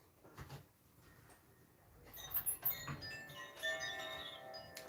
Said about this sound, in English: I thought I might just do some little chimes.